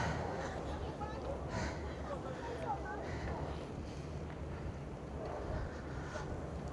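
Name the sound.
strong wind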